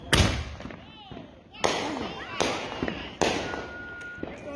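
Fireworks go off at a Christmas-season display, several loud sharp bangs and crackling bursts in an irregular sequence with rumbling echoes, as people talk and shout in the background.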